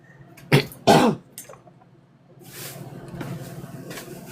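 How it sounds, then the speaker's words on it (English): Two sharp, harsh coughs close by in quick succession from a person with a lung infection, then a softer breathy throat sound and faint rustling. "I'm still coughing shit up"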